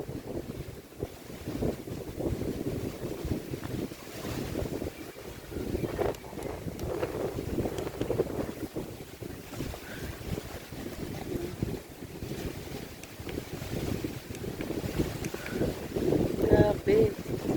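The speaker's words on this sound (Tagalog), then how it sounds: "Ang lakas ng hangin." Strong wind buffets the microphone in loud, gusty bursts beside a deep lake in Cavinti, Laguna, with faint speech underneath.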